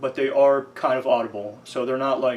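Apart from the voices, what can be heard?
No distinct noise like a dog, phone or traffic.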